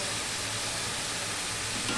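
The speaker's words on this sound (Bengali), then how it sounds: "এবার একটু ভাজা ভাজা করে নেবো" Dried fish and potatoes fry with salt in a pan, producing a soft, continuous sizzle with faint stirring underneath and no voices.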